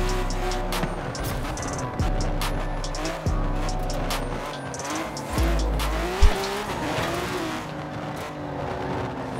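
A Silverado 1500 pickup truck in the racing game Forza Horizon 4 drifts on a slick, icy road on road tyres. Its tyres squeal in repeated long bursts over a droning, revving engine, with a sharp thump near the end.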